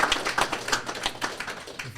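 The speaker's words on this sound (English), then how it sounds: "Give everyone a round of applause on there" An audience breaks into applause at a real estate agents' panel event, a brisk run of overlapping hand claps at moderate volume, close and alone without talking.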